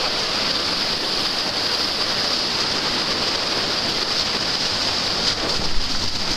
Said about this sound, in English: Roll right into another rapid.